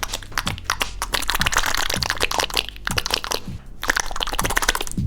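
A foley artist imitates an egg being beaten at a cooking show, producing a loud, close, rapid series of crackling, crunching and crinkling clicks that run continuously with no talk.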